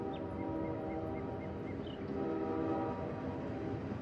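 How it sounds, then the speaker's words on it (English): Train in the horror game Tormented Souls, a continuous rumbling of rolling rail cars with high whistle-like tones sounding above it, steady and moderately loud with no speech. "We're on a train this time."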